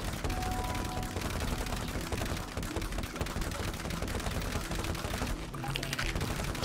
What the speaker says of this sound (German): Schieß doch mal ein bisschen mehr,